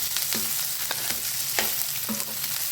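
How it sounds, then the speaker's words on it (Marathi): Onion fries in a pan, the constant sizzle broken by several distinct stirring scrapes at uneven intervals, close and with no voices. "फ्राय होत आहे"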